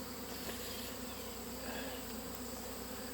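Honey bees fly in and out at the entrance of a hive in a busy bee yard, making a dense, continuous buzzing drone that stays steady and close throughout with no voices.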